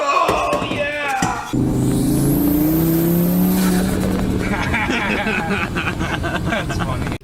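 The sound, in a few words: sheriff's car passing by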